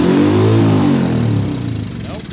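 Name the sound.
Honda ATC 200E three-wheeler engine starting and revving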